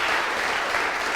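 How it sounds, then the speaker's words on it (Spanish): A church congregation applauding during a Bible class service, a brief dense wash of clapping at steady loudness. "Dale un fuerte aplauso al Señor"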